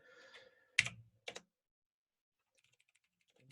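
Brief, faint clatter of computer keyboard keys: two short bursts of typing close together, followed by near silence with a few soft, scattered ticks.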